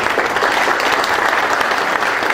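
Steady, dense applause from a ceremony audience at a Korean middle school football league draw event, loud and continuous with no pause.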